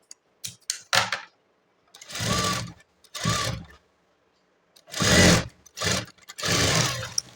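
A sewing machine stitches a blouse in several short runs of steady whirring, each lasting about a second, with brief clicks and silences between bursts, close up with no talking.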